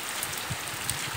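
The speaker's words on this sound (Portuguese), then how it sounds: "Está chovendo mesmo legal aqui" Heavy rain pours down in the Bahia sertão, a dense, steady hiss of drops close by, with a few sharper patters standing out briefly.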